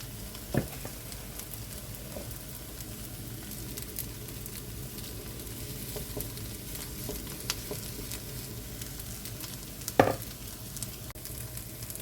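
Vegetable fritters frying in a pan of oil give a soft, constant sizzle with scattered pops and a couple of sharper crackles, fairly quiet and without talk.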